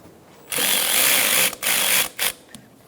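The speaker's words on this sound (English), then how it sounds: "Using an 8mm socket, loosen the clamp going to the throttle body for the air intake boot." A power tool spins an 8mm socket to loosen the air intake boot clamp at the throttle body of a 2012-2020 Chevrolet Sonic 1.8L. It whirs loudly in two longer runs, then gives two brief final blips.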